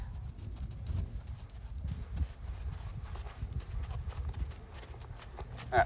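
Rhythmic clip-clop of hooves from a ranch horse trotting steadily, fairly close, with faint outdoor ambience and a brief bird call near the end.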